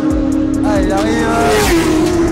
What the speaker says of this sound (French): Allez, Nicolas, le deuxième pilote arrive.